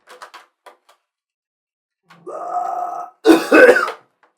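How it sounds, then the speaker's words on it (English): A single harsh cough bursts out loud and close, directly into a microphone, preceded by a few faint soft noises and a brief muffled rasp. "Sorry for coughing directly into the microphone."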